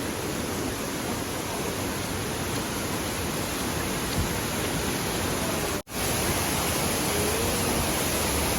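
Shower Falls waterfall in Baler, Aurora, where fine water spreads like a shower, giving a constant loud broadband roar with one brief dropout.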